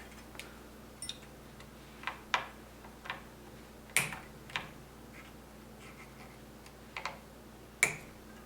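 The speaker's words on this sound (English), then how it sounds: "I'm going to cut the excess off now." Guitar string ends being snipped off on a Floyd Rose bridge, a run of about a dozen sharp, quiet clicks spaced irregularly, close up, with no voices.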